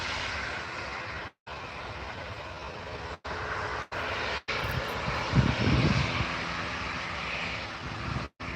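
A Ryanair airliner taxis at Newcastle International Airport, its jet engines giving a steady, loud broadband roar that carries on throughout with small swells, heard from nearby over an open-air background.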